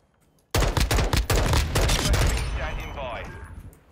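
Intense gunfire in Modern Warfare 2 during a bomb-plant match: a sudden loud burst of rapid automatic shots, then a ringing, fading tail, with voices overlapping.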